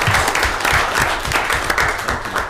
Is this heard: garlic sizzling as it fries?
no